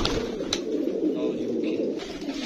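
Green-necked pigeons coo in a steady, overlapping murmur that runs without a break from start to finish, close by, with a voice faintly present in the background.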